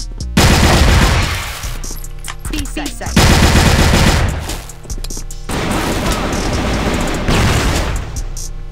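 Automatic weapon fire in an online shooter match, with loud, close, rapid bursts in several long runs and only short gaps between them, and no talk over it.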